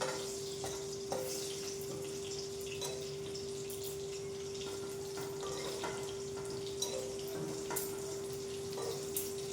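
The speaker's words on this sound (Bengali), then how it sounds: "ভিতরে বেগুন আর্ধেক ভাজছি" Eggplant pieces fry in a pan with a low, steady sizzle that runs throughout, broken by faint clinks and stirring sounds, with a constant hum underneath and no voices.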